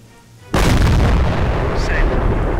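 A sudden heavy burst of battle fire erupts in the Company of Heroes Blitzkrieg Mod at Pegasus Bridge, loud sustained booming and crackling gunfire that fills the scene after a quiet start, with shouted voices faintly underneath.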